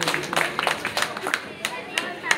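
Scattered hand clapping from a crowd at a temple consecration ceremony for a Hanuman idol in Puri, a quick uneven patter of claps over a couple of seconds, fairly distant and light.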